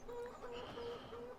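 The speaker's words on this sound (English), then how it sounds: "So here we have our chickens." Chickens clucking on a farm in Farming Simulator 17, on the Tenneberg map: faint, repeated short calls in a steady rhythm, heard from a slight distance.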